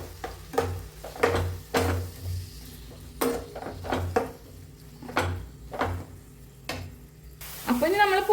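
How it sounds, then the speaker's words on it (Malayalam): A spoon stirs and mixes curry sizzling in a pan, with rhythmic scraping strokes over a continuous frying hiss and a brief clink of utensils near the end. "അപ്പോൾ അതൊക്കെ കൂടി ഒന്ന് ഇളക്കി മിക്സ് ചെയ്തിട്ട് കൊടുക്കാം."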